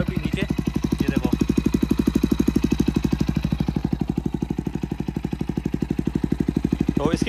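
A modified Bajaj Pulsar NS125 motorcycle idles with a fitted aftermarket exhaust and a welded black pipe. The close, loud, steady low thumping exhaust note keeps an even, rapid rhythm throughout.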